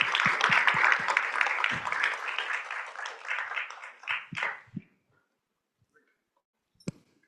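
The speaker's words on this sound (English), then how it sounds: "Give applause for the panelists." Conference audience clapping for panelists after a session on Southeast Asia's dual transformation, a loud burst of many hands that thins into scattered claps and dies away around the fifth second, leaving near silence and one last sharp tap.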